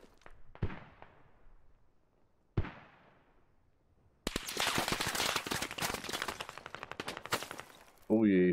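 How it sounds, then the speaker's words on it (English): Video game gunfire: two isolated sharp shots a couple of seconds apart, then a dense, loud burst of sustained automatic fire lasting several seconds, with a voice cutting in at the very end. "he started shooting at me"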